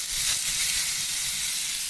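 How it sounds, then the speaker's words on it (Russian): Beef steaks, lightly pounded, sizzling in a hot pan, a continuous bright hiss and crackle that stays steady and close with no voices over it. "сейчас мы жарим стейки"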